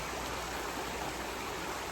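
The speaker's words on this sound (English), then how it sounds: "this is my little river or creek" A small river or creek flows steadily near a camper in the Smoky Mountains, giving a constant broadband rushing hiss with no pauses or voices.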